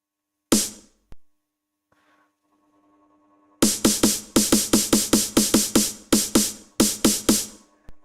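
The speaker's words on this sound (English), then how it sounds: "So it's gonna sounds like the snare kind of comes and then it's slowly getting louder" Electronic snare drum for a Eurobeat build-up, a couple of isolated hits, then a quiet synth pause, then a rapid run of sharp, repeated snare strikes in a driving pattern near the end.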